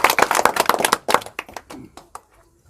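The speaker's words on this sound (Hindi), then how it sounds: "तालियां।" Hands clapping at a political gathering in Bihar, a burst of sharp, fairly close claps that thins into a few scattered slaps and fades out.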